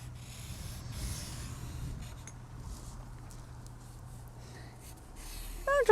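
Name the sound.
permanent marker drawing tulips on paper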